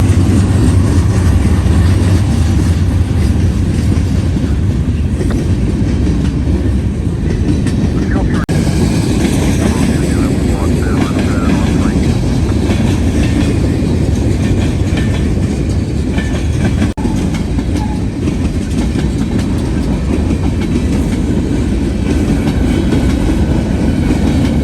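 A CSX freight train hauling auto parts boxcars, including chassis system boxcars, rolls past close by for a long stretch. The steady loud rumble carries a wheel clatter throughout, with no voices.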